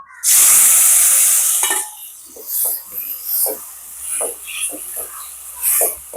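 Tomatoes drop into hot oil for a soya meat devilled dish, setting off a loud, sharp sizzle that fades after a second or so into rhythmic scraping and stirring in the pan.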